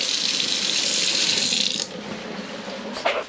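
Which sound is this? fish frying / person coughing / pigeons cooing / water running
water running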